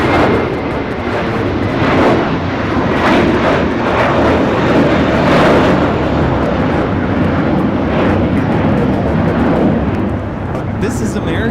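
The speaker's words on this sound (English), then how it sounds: "This is American Airlines 274 taking off to JFK on the A321" An American Airlines Airbus A321 takes off at Los Angeles International Airport, a loud, steady jet engine roar that holds for the whole stretch with little change in level.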